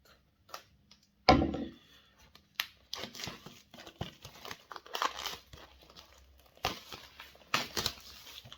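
A 4K Blu-ray steelbook package is unwrapped up close, with sharp crinkles of plastic wrap, tearing and scattered ticking handling noises in irregular bursts with quiet gaps between.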